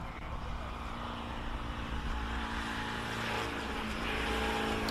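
Classic Austin racing car driven flat out at the Simola Hillclimb, a sustained engine roar at a distance that swells slightly louder toward the end.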